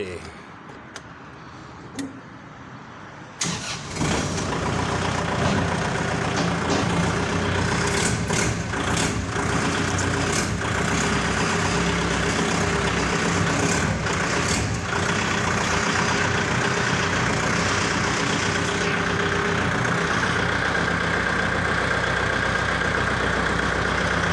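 Kubota L5018 tractor engine starting after a short quiet stretch, then running steadily in a loud, continuous rumble close by for the rest of the time.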